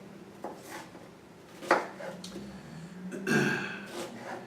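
An onion is chopped on a stovetop-side cutting board, with a handful of quiet, irregular knife taps and light scraping at close range.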